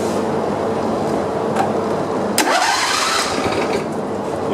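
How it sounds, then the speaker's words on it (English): John Deere lawn tractor engine cranking over while its fuel pump runs, a steady mid-pitched mechanical churn throughout with a brief sharp burst near the middle, close and fairly loud. "I just want to make sure the fuel pump is pumping"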